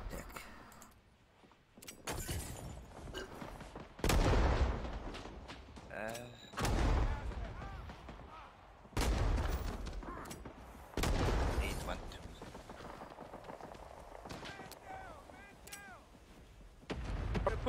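Gunfire in Rising Storm 2: Vietnam, with several loud, sharp reports and bursts spread through the stretch over ongoing battle noise, and a voice talking intermittently among the shots.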